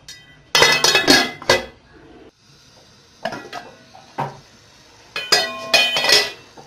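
Metal lid set onto a cooking pot of chana dal, a cluster of bright clinks and rattles followed by two further bursts of clattering, close and fairly loud.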